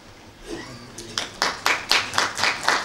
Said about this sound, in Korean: 큰 박수로 축하를 해주시기 바랍니다